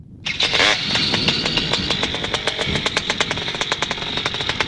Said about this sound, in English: So I've warmed up the engine, as I mentioned.